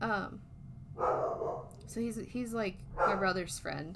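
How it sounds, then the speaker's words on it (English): A dog barks and yips in short bursts somewhere in the room, its calls overlapping a person speaking close by. "sorry about the dog barking in the background."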